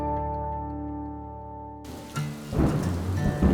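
Heavy rain and rumbling thunder in the Big Bend area of Texas, with a steady tonal hum at the start before dense, loud rain noise and thunder swell in and build toward the end.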